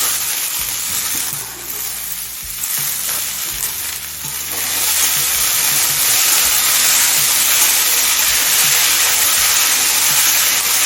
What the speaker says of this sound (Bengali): পুঁটলিটা দেওয়ার পর হাই ফ্লেমে আমি তিন চার মিনিট ভেজে নিলাম